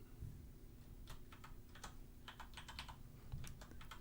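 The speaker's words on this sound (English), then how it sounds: "People can maybe hear me typing here." Someone types on a computer keyboard at a desk, quiet bursts of quick key clicks with short pauses, soft and close under a low background hum.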